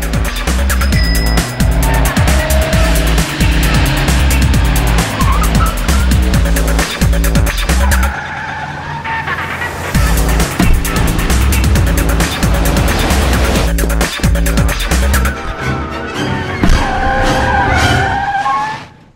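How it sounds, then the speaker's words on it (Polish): Car driving through city streets at 60 km/h, with loud, continuous engine noise, repeated tire squeals and a brief dip midway before the drive roars on. "Podczas próby przejadę przez miasto z prędkością 60 km na godzinę."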